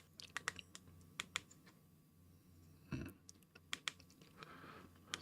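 Quick bursts of typing on an iPazzPort wireless mini QWERTY keyboard, light plastic key clicks tapping in uneven clusters, close and fairly quiet, with a slightly heavier thump near the middle.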